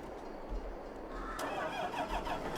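A John Deere 8230 tractor in Farm Sim 22 cranks and starts, its engine settling into a steady mid-pitched running hum that grows slightly fuller after the start, heard close.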